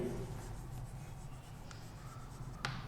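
Chalk or marker scratches steadily across a classroom board during a maths lecture, a continuous faint scraping under background noise with a couple of sharper ticks.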